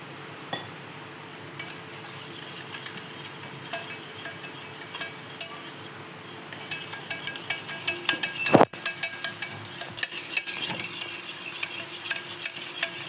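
Crushed Oreo biscuits and milk are whisked together in a bowl, giving a quiet, close scraping and stirring with small clinks against the bowl and one sharp knock partway through.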